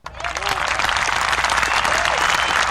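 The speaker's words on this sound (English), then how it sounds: "Where's the clap button on this?" Soundboard applause effect on a podcast, a dense, steady burst of crowd clapping and cheering that starts abruptly and holds at full loudness throughout, with faint voices mixed in.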